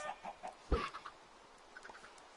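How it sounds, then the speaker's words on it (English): Minecraft chickens clucking on a farm near a greenhouse, a few short scattered clucks with one louder sharp one partway through, fairly close and otherwise quiet. "Oh, my chickens."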